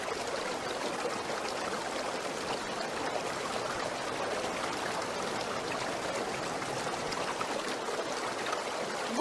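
River water flows steadily along a stream, a continuous close rushing and trickling wash that stays even and fairly loud throughout, with no voices.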